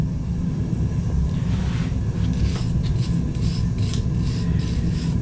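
A stiff brush scrubs the top of an anvil in a blacksmith shop with repeated rasping strokes. The strokes sound close and continuous over a low workshop rumble.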